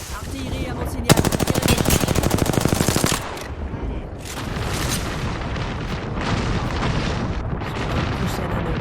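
Artillery and gunfire in a battle royale video game: a dense, loud burst of rapid machine-gun fire for about two seconds, then continuing rumbling booms and distant shots, with a voice speaking over the action.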